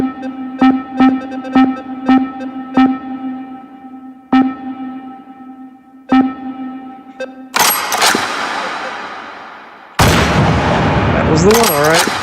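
Gunfire in the VR shooter Hot Dogs, Horseshoes and Hand Grenades: a string of sharp, evenly spaced shots with ringing tails, then louder, denser bursts of noisy blasts toward the end.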